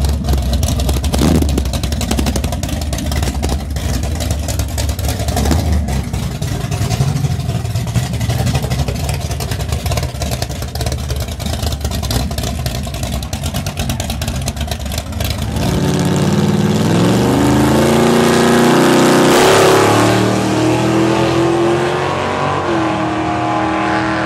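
An Audi car roars down a drag strip during a Friday night test-and-tune session, its engine loud and continuous, rising in pitch through the gears as it pulls away.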